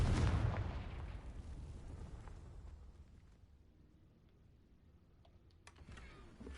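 A Confringo fire blast spell from Hogwarts Legacy bursts with a loud booming impact that decays slowly into a rumbling tail, followed by faint scattered crackles.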